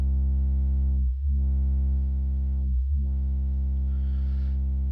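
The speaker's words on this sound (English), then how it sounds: "It's just a sine wave right now" Low sine-wave bass tone from a eurorack synth patch, loud and steady for the whole span, briefly dipping twice as if retriggered, with a faint airy texture rising near the end.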